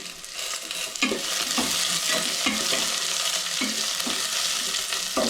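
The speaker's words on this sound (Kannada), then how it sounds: "ಚೆನ್ನಾಗಿ ಫ್ರೈ ಆಗಬೇಕು" Chopped tomatoes and onions fry in a hot pan with a steady sizzle while a spoon stirs and scrapes them in repeated strokes, close and loud, with no one talking.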